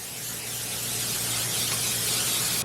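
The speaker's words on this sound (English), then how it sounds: "I take a sheet pan. I'm going to spray it with some spray oil." A continuous hiss of an aerosol cooking oil spray onto a sheet pan, close and steady for the whole stretch, ending abruptly.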